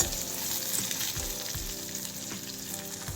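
Grated coconut frying in a pan for hotel-style coconut chutney, a soft steady sizzle with a few light scrapes and stirring knocks, close and fairly quiet with no voices.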